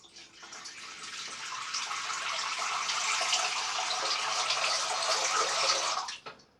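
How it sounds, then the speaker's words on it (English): A tap runs steadily into a sink for about six seconds, making a close, even, hissing splash that starts abruptly and cuts off at the end. "I'll run a little water into the sink."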